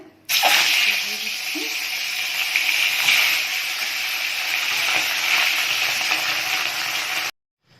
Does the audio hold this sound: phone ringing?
no